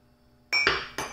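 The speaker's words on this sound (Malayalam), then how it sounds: "ഇതാ നമ്മൾ നമ്മുടെ കേക്ക് ടിന്ന് അതിലേക്ക് ഇറക്കി വെച്ചിരിക്കുകയാണ്, അതേ കുക്കറിലേക്ക് ഇറക്കി വെച്ചിരിക്കുക കേട്ടോ കേക്ക് ടിന്ന്" A metal cake tin holding carrot and date cake batter is set down inside a pressure cooker, giving two close, bright metallic clinks about half a second apart after a quiet start.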